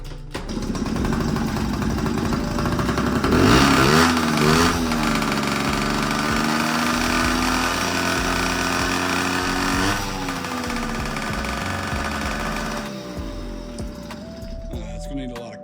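A Yamaha PW50 dirt bike engine, still in need of carburetor tuning, runs loud and close as a buzzing two-stroke idle, revving up twice and settling back to a steady drone.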